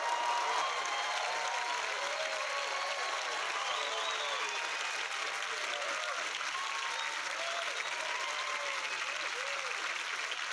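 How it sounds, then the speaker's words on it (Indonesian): A live audience applauds steadily for Putri, an eight-year-old girl singer, at a televised talent show in Indonesia, the continuous clapping holding at an even level throughout without a break. "kita kasih tepuk tangan buat Putri"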